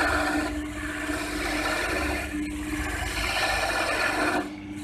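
A wood lathe turns a wooden block into a lid while a tool shaves off material, giving a steady, loud scraping rasp that continues without pause and eases near the end.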